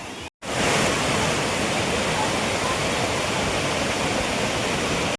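Rushing water flows loudly and continuously, a dense steady roar close by after a brief silent gap at the start.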